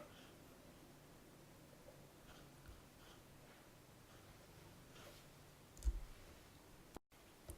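A single faint computer mouse click sounds once near the end of a quiet stretch, against low background hiss, while desktop license software is being set up.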